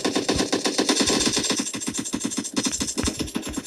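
Rapid bursts of video game gunfire crackle in quick succession and stay loud and close throughout, with short gaps between volleys and no talk over them.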